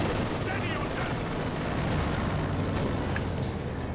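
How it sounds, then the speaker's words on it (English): Artillery fire in the video game Company of Heroes 2, a dense continuous roar of booms and rumbling gunfire at a steady high level, with a voice talking over it. "So they're pounding the hell out of us with lots of artillery."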